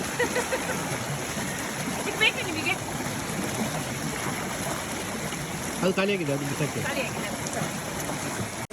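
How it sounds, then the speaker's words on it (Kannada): A stream flows in a steady, continuous watery rush at close range, while people talk over it. "ಒಂದು ಒಳ್ಳೆ ಹೊಳೆ ಹರಿತಾ ಇದೆ ನೋಡಿ"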